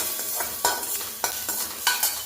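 Green chilies stir-fried in a lightly oiled kadhai, heard as a crackling sizzle broken by several quick, rhythmic scraping strokes of a spatula against the pan, close and clear.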